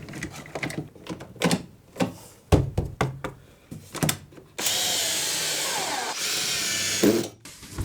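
A drill fitted with an extension bit drives screws in two sustained whirring runs, loud and close, after a series of sharp knocks and clicks from handling parts in a workshop.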